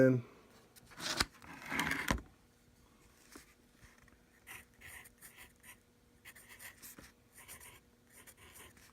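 A pen scratches across paper in short, quiet bursts of strokes, close by, following a few louder rustles at the start.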